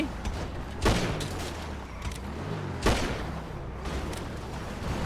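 Gunfire in a GTA roleplay gang fight comes as two sharp loud shots about two seconds apart, set against a dense background of game noise and muffled chatter.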